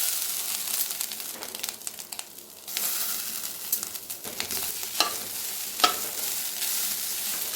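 Grated coconut dry-roasting in a kadai without oil, with a spoon scraping and stirring through it in an ongoing rustle, plus a couple of sharper knocks against the pan near the end.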